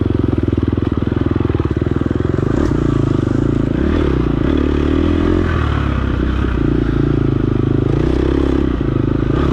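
A dirt bike runs at a steady cruising pace along a wooded trail, its engine droning close and constant with clattering and scraping from the rough ground.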